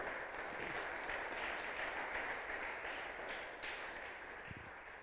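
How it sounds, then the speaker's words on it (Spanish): Church congregation applauding during a Spanish-language Sunday service, steady dense clapping that stays even at a moderate, somewhat distant level throughout, with no talk over it. "Das fuerte aplauso al Rey de Reyes."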